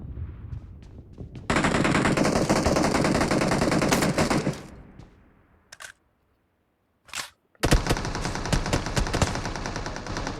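Bursts of automatic gunfire in PUBG Mobile rattle loud and close in long sustained volleys, broken by a short gap of near silence and a single brief burst before firing resumes.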